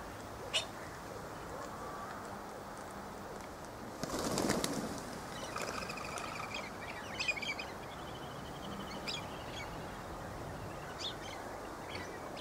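Galahs and a cockatoo call outdoors on a cold winter afternoon, with faint scattered chirps and squawks over a quiet background and a brief louder rustling burst near the middle.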